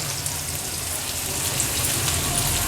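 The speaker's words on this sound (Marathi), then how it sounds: "आता कांदा छान मऊ होईपर्यंत आपल्याला शिजवून घ्यायचा आहे कांदा शिजवताना गॅसची फ्लेम मी लोवर करते" Chopped onion frying in a pan over a lowered gas flame, giving a steady, soft sizzle that runs alone and evenly throughout with no talk.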